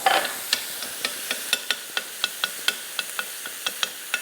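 Peeled tomatoes stirred in a hot pan, a soft sizzle and steady frying hiss broken by regular scraping strokes of a spoon, close and moderately quiet, with no voices.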